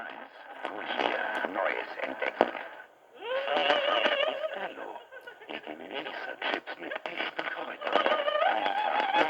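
Distorted, band-limited audio from a cassette plays through a crackly medium wave (AM) radio tuned to a small test transmitter kit, with muffled talk and music smeared by static and bursts of interference.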